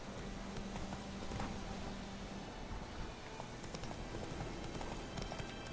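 Roach, Geralt's horse in the video game Witcher 3: Wild Hunt, running with a continuous clip-clop of hooves under a dense, rain-like wash of game ambience, steady and fairly close.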